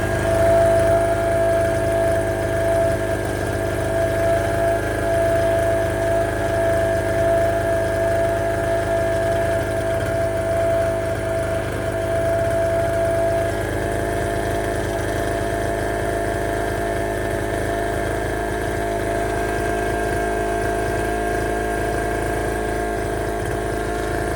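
A small 0.7 kW portable generator running fast and steady, a constant close engine drone with a tonal whine that shifts slightly partway through, no voices.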